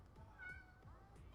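A house cat gives a short series of close, quiet meows, its rising and falling cries repeating in quick succession with a soft hum in the background.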